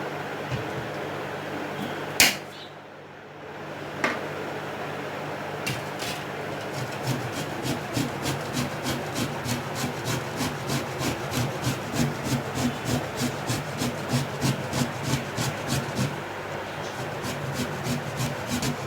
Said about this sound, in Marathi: इथे आता आपण रताळे किसून घेऊया।